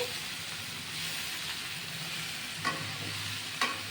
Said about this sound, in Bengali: ধনে গুঁড়ো ও গরম মশলার গুঁড়ো সব দিয়ে আমি কষাবো এবার